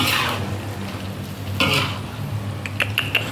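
Red curry paste stir-fried with pork sausage in a pan: a steady sizzle throughout, with a few sharper bursts of spatula scraping and stirring partway through, close and fairly loud, no talk.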